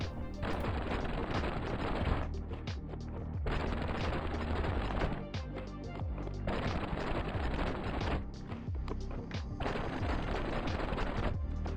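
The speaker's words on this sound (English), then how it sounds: "Enjoy some gun ASMR." Infantry lasguns firing in a Warhammer video game, sustained rapid bursts of energy-weapon shots in long volleys separated by short pauses, loud and close with no talking.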